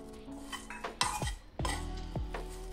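Roasted chai masala spices being moved onto a plate, a few sharp metallic clinks and knocks of a spoon against steel dishes, close and sparse with short ringing decays and quiet scraping between them.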